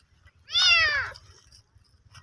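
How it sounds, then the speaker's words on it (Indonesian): A single high-pitched meow from a kitten in a trash bin, brief and fairly close, with faint background noise before and after. "ada anak kucing"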